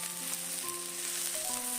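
Chopped scallion and minced ginger fry in hot oil in a heated wok, giving a steady, close hiss and sizzle with faint tonal ringing and no one talking.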